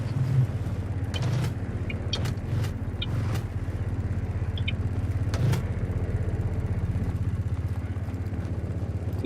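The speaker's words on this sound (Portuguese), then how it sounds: "É a moto, sim." A motorcycle engine runs steadily, a low, rhythmic throbbing hum held at an even level close by, broken by a few sharp clicks and knocks.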